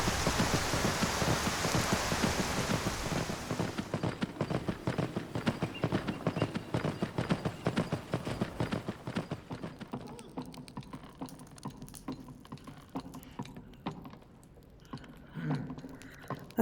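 Horse hooves clip-clopping in rain in the video game Skyrim VR, a steady rhythmic trot over a constant hiss of rainfall that thins out partway through, with the hoofbeats continuing more faintly.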